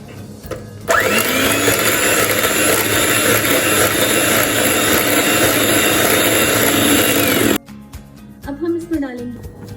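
An electric mixer beating marble cake batter with vanilla essence, a loud steady whir that runs for several seconds, then cuts off abruptly, leaving quieter clatter and a voice speaking.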